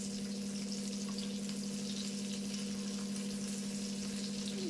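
Dried fish frying in oil in a pan, a steady continuous sizzle with a constant hum underneath, close and fairly loud throughout.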